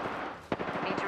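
Rapid gunshots in the battle royale video game Apex Legends, a sharp burst followed by a quick series of fainter shots in a short stretch of steady game noise.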